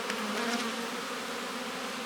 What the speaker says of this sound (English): I'm being harassed by some of these bees. But man, they are just going wild out here.